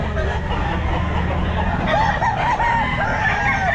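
A Lemon Sweater gamefowl rooster, nine months old, crows amid the dense bustle of a pet market, its calls rising over a steady wash of crowd noise and background chatter.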